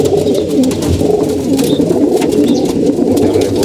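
Pigeons kept for breeding coo loudly and continuously close by, low throaty rolling calls that overlap with faint outdoor background noise.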